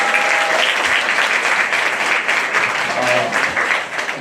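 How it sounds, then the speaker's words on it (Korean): Audience at a graduation project presentation gives loud, dense applause for sixty students, a continuous roar of clapping from a full room that stays strong throughout the few seconds. "60명의 친구들에게 힘찬 응원의 박수를"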